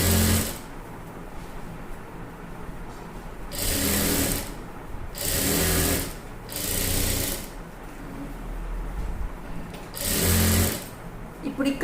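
A sewing machine stitches an embroidered blouse in several short runs of rapid mechanical chatter, separated by pauses in which someone speaks over quiet handling of the fabric.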